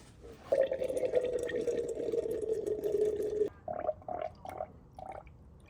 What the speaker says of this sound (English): Fill till the coolant gets to the top.